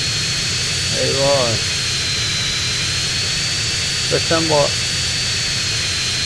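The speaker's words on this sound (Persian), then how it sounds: "داشتم با اون سعی میکردم جتو کنترل کنم." Jet engine of an aircraft in the video game GTA San Andreas, a constant loud whining drone with a voice speaking over it twice.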